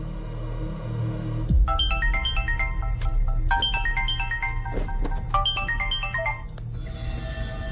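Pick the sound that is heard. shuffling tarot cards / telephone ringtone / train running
telephone ringtone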